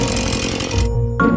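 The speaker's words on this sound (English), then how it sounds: "So the chainsaw came to the rescue." A chainsaw cuts out a stump buried underground while building a trail, a loud, close, raspy engine whine that cuts off abruptly partway through and then roars back up.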